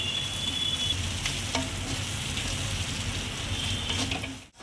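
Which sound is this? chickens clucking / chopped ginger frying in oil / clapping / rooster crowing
chopped ginger frying in oil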